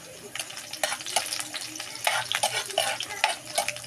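Garlic sautéing in a pan for a spicy tuna dish, with spoon scrapes and stirring clatter over a light sizzle, in irregular bursts close by.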